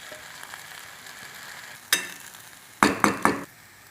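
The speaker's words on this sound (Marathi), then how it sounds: "आता आपण ह्याच्यात सगळं परतले मटकी टाकून घेऊ।" Sprouted moth beans frying with onion, tomato and peanuts in a pan, a steady low sizzle broken by a sharp hiss and then three quick loud bursts as the beans hit the hot oil and are stirred.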